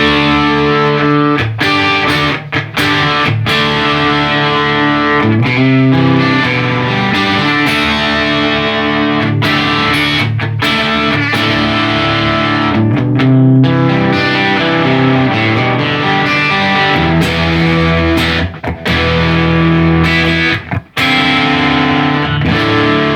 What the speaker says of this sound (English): Classic Marshall crunch type of overdriven sound.